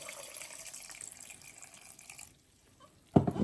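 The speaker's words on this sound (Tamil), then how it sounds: "இதை நல்லா ஒருக்கா பிணைஞ்சு கழுவிட்டு நாங்கள் இப்போ ஒரு வடி போட்டு இதை வடிச்சிடலாம்" Soaked urad dal rubbed and rinsed by hand in water for Jaffna-style dosai, a continuous wet swishing and sloshing that falls quiet near the end before a sharp splash of water returns.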